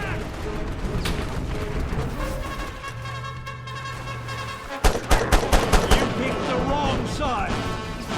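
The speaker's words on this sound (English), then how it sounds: "Bigger gun, automatic rifle." Automatic rifle fire in Mercenaries 2: World in Flames, first a dense spread of game action, then a fast run of sharp, loud shots in bursts midway, with battle noise and voices around it.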